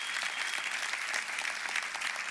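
Sustained applause from a church congregation, steady clapping throughout, fairly loud and dense with no voices standing out.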